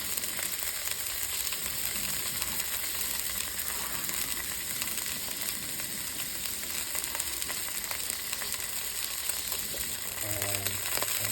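Sliced sausage and finely sliced chili sear in a very hot pan, giving a loud, steady sizzle with crackling spits that runs unbroken throughout, and a brief clink of utensils near the end.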